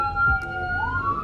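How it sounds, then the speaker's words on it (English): A passing ambulance siren wails, a steady electronic tone that dips and then rises again, heard clearly over faint low background rumble with no talking. "There's an ambulance."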